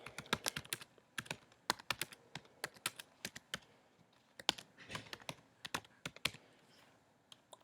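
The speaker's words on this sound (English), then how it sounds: "Okay, so I just begin typing." Keys on a computer keyboard clack in quick irregular bursts with short pauses between, close and crisp, no speech.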